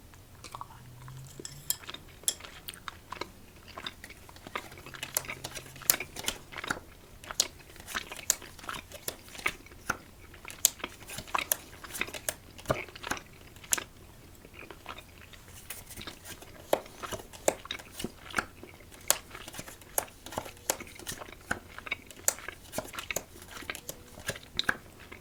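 Strawberry HARIBO Goldbears gummy candy being chewed close to the mic, a continuous stream of soft sticky bites and squelches with scattered crisp clicks and crinkles, no talk.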